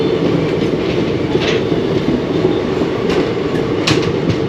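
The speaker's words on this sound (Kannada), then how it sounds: "ಮೆಟ್ರೋ ಕೂಡ ಹೋಗ್ತೈತೆ ಆಲ್ರೆಡಿ" A metro train passes on a railway track near Kengeri, a loud, continuous rumble with rattling wheel clatter and occasional faint squeals, close and steady throughout.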